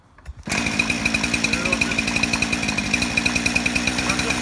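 A chainsaw, freshly restarted after being flooded with excess fuel, coughs briefly and then fires up to a loud, steady idle with a rhythmic engine pulse. It runs on unbroken to the end, close to the listener, with no talk over it.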